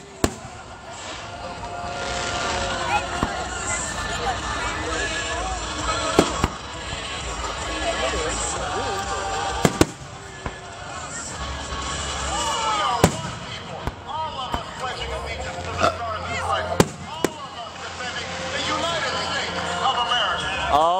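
Fireworks bang and crackle in sharp bursts scattered across a noisy outdoor scene, with people talking and exclaiming throughout.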